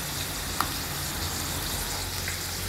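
Food frying steadily in a pan while being stirred before a chicken cube goes in, a constant close sizzle with a faint utensil tick near the start.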